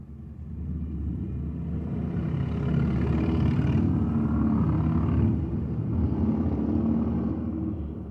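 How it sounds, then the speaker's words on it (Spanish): A large tractor-trailer truck passes by outside while shrimp fajitas are being cooked, producing a loud, steady low rumble that swells in the middle and slowly eases off. "Va pasando un carro, un tráiler grande y hace mucho ruido."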